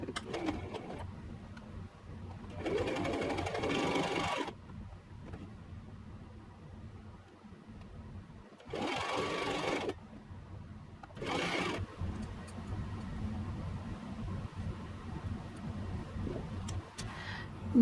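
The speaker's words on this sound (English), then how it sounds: "I'm just running the lace bit through with a straight stitch." A sewing machine straight-stitches lace onto a cotton top in several separate bursts of whirring, each a few seconds long, separated by quieter handling and background hum.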